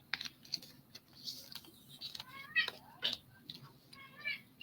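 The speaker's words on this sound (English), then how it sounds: "Your kitty is talking to my kitty." A cat gives several short meows, some with rising or falling pitch, spread among soft clicks and taps like keyboard typing; quiet and close.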